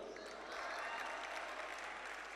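A mushaira audience applauds with dense, steady clapping from a crowd, filling the space evenly at moderate volume throughout, with no distinct voices standing out.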